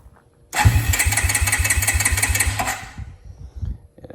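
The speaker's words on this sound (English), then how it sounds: "let's give it a start up for you, just so you can hear it." A 2002 Suzuki King Quad 300 4x4 ATV engine is started with the choke on, cranking with a rapid rhythmic chug for about two seconds before dying away, close and loud, with no talking.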